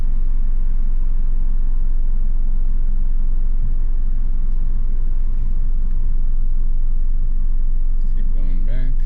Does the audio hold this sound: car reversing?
yes